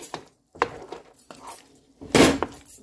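Pork tossed in a hot pan with ginger and garlic, giving several separate bursts of scraping and clattering against the pan, the last one loudest and longest, with short quiet gaps between.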